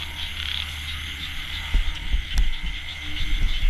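Frogs croaking in a rice field after heavy rain, a dense continuous chorus of nearby calls with low throbbing pulses and thumps, no talk.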